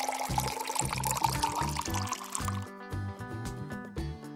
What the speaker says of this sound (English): Pour out the extra water.